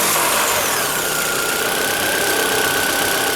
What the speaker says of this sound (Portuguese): O Jonas vai dar partida agora pra gente ver como ficou.